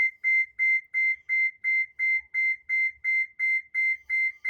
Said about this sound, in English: And we're going to make you sit through the agonizing minute of beeping as well.